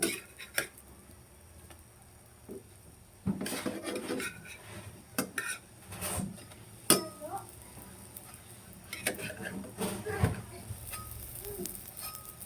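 Homemade bread being flipped in a frying pan on the stove without an oven: scattered clinks and scrapes of a utensil against the pan, quiet and close, with soft sizzling between the knocks.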